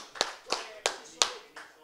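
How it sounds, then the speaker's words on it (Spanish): Five sharp hand claps spaced evenly at a livestock auction, close and fairly quiet, with faint voices in the background. "Un aplauso, un aplauso, muchachos."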